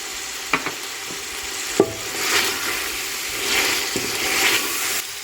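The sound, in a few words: chicken sautéing with yogurt and garam masala in pan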